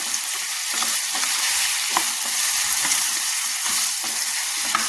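Chicken pieces, including a leg piece, frying in hot oil for a chicken and banana flower curry: a constant close hiss and crackle with faint soft stirring taps.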